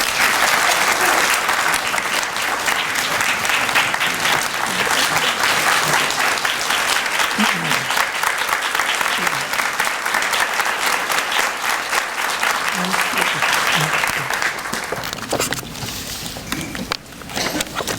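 Sustained audience applause fills a hall at a Parkland College Juneteenth celebration, steady and loud from start to finish, thinning slightly near the end as a speaker returns to the podium.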